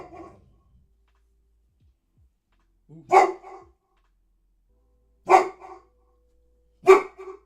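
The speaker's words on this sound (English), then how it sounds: "You can hear the part of the barking coming back from the TV." A dog barks at barking coming from a TV: three sharp, loud bark bursts spaced a couple of seconds apart, each followed by a short softer yelp, over an otherwise quiet room.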